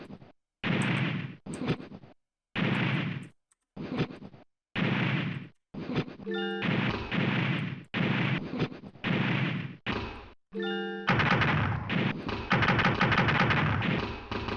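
Gunfire from a gun in a shareware video game: loud separate blasts about a second apart, then denser, near-continuous shooting toward the end, with no talking.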